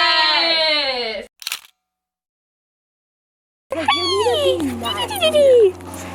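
A happy dog gives high whimpers and yips close by, bursting out before a silent gap and again afterward over a steady low hum, with an excited voice chattering alongside.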